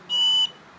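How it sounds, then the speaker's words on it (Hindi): A homemade touch-activated doorbell buzzer gives one short, steady electronic tone lasting about a third of a second. It sounds close and clear against a quiet background. "हमारा टच डोर बेल सिस्टम बन गया है। अभी हम इसे चेक करेंगे।"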